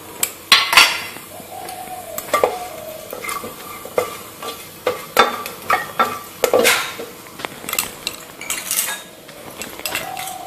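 Whole garam masala with cardamom, cloves, cinnamon and ground pepper frying in hot oil, a loud close sizzle broken by sharp metal spoon clinks and scrapes against the pan.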